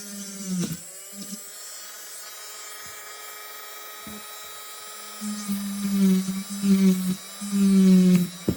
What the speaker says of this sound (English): It's basically a Dremel. It's generic, hyper tough.